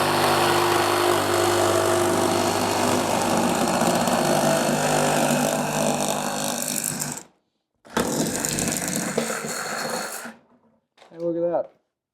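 A Sawzall reciprocating saw cuts through a sump pump drain, giving a loud, close, continuous rasping buzz for about seven seconds, then a short pause and another burst of cutting before it stops. A brief voice follows.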